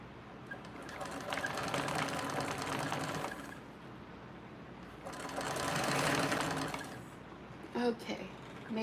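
A sewing machine back stitching fabric whirs in two loud, sustained runs separated by a pause, close by, followed by a few small clicks, with brief speech nearby.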